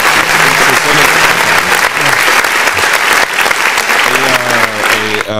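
An audience claps loudly and continuously in a dense burst of applause, with a voice briefly heard near the end.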